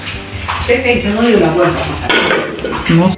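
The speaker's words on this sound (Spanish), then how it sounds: "Ya revolviendo la, la presa con la minestra" Chicken with chives and cilantro being stirred in a pot, with loud clanks and scrapes of a spoon against the metal and the clink of utensils, close up, over a steady cooking background.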